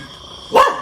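A dog lets out a single sharp bark at close range during a night walk in Benguet, standing out against quiet background hiss.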